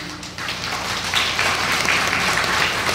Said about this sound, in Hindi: मेरे किसान भाई बहनों के लिए एक बार तालियां होनी चाहिए।